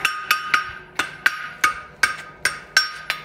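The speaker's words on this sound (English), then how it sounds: "Line the shoe up on the edge of the anvil. And again, other than just giving it a slight tap." A hammer strikes a horseshoe on the edge of an anvil in about ten sharp, ringing metallic taps at an uneven brisk rhythm, close and clear with no voices.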